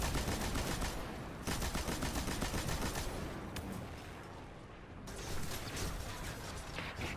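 Machine gun fire in the Destiny 2 video game, a dense continuous rattle of rapid shots with mechanical clatter, loud and sustained with a brief lull partway through.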